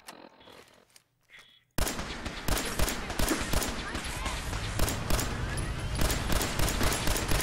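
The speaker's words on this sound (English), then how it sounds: "this pistol does work though. This pistol shreds him" Gunfire erupts in Fallout 4 after a quiet opening of faint sounds. A dense, rapid volley of loud shots follows and continues without letting up.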